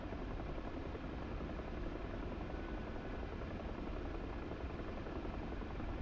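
A Huey helicopter flies in a video game, its rotor and turbine making a steady, dense, unbroken drone at constant level with no talk over it.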